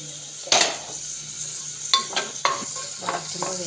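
Food being sautéed and stirred in a pan on a small stove, with a steady sizzle beneath sharp scraping strokes of a utensil against the pan at irregular intervals, close by.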